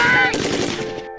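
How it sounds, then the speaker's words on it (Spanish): A loud burst of automatic gunfire rattles out in rapid succession, with the shots blurring into a dense volley before tailing off into a brief echo. "le disparé en su cuerpecito una ráfaga de balazos"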